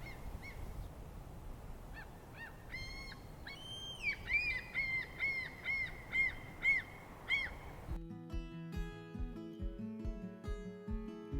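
Birds around a fishing harbor honk and call in a loose series of harsh, repeated cries over low ambient rumble, and the calls give way to music at the end.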